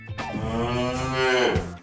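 A cow moos loudly and close by in one long, drawn-out call with a falling-then-rising tone, on a farm, heard alone with no talk over it.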